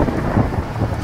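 Brief burst of cartoon thunder rumbling low under heavy rain hiss, loud and close, in a short stormy moment.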